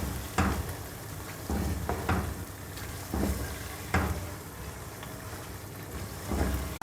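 Chicken korma is stirred in a frying pan, with a spoon scraping through the sizzling mixture in several distinct strokes over a continuous frying hiss.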